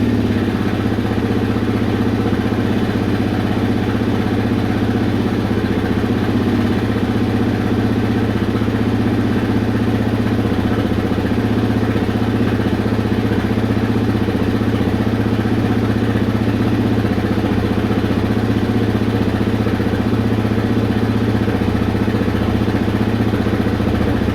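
A 2004 Kawasaki KFX 400 ATV engine idles steadily just after an oil change. It gives a loud, constant, close-up drone with a low rumbling throb, and no voices are heard.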